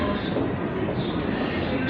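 Continuous low rumble of a train at Clapham Junction, steady and moderately loud for the whole stretch, with no clear voices.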